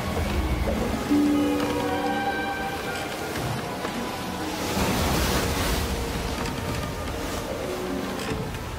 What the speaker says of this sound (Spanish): Y el mar estaba agitado porque soplaba un fuerte viento.